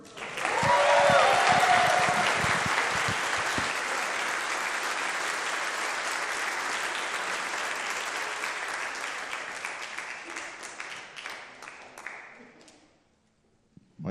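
An audience applauds in welcome for a speaker at a Jackson event, a dense, sustained burst of clapping that swells early, holds steady, then gradually thins and fades out, with a few voices near the start.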